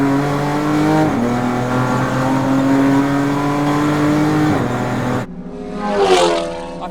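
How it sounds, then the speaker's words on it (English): An Audi RS3 race car engine revs hard on a racetrack, loud and steady for about five seconds before the note cuts away and then rises again in a short surge, with no talk over it. "Chris Nyland's going really well in this RS3, isn't he?"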